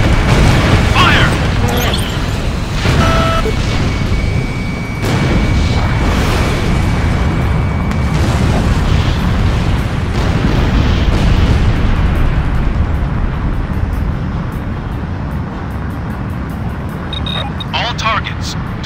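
Missiles blast targets in the combat flight game Ace Combat Infinity with an F-15S/MTD, producing heavy booming explosions over a constant jet roar, while a voice speaks over the action.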